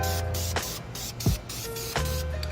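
Aerosol spray paint can hissing onto brake calipers in several short, close bursts separated by brief pauses, with no talking.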